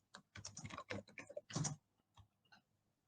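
Fingers type on a computer keyboard while editing an Excel chart title, a quick irregular burst of close key clicks followed by a few scattered taps, with quiet gaps between.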